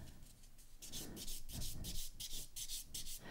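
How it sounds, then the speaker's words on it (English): A clean-finish buffing file rubbed over an acrylic gel nail, close and quiet, with rhythmic scratchy strokes repeating about every half second. "Now I'm going to buff the nail with my clean finish buffing file."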